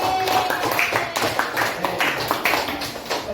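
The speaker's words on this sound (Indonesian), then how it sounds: "Berarti tepuk tangan buat nomor 3" Applause from a classroom group for team number 3, a dense patter of many hands clapping steadily and close by.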